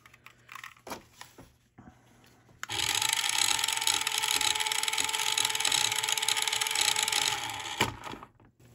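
The upgraded motor of a Jada Toys 1:24-scale Lightning McQueen RC car is run up. After a few faint clicks it gives a sudden, steady high-pitched whirring whine that holds for about five seconds, then cuts off.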